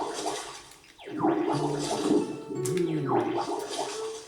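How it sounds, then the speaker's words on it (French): A plant gets watered in the video game Pokémon Pokopia, heard as two gurgling, splashing water pours with descending swoops, close and fairly loud, with no talking. "Bon, je vais l'arroser."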